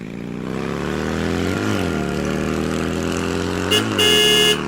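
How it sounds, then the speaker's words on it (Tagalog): A motorcycle engine drones steadily with shifting harmonic pitch as the ride gets under way, rising and falling slightly, with a brief sharper tonal burst near the end. "Umugong ang makina ng motor at nagsimula na ngang magpatakbo si Jerry"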